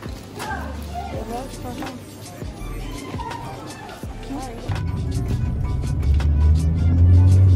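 A car rides homeward with a low engine and road hum that grows louder and steadier toward the end, while a voice talks over it.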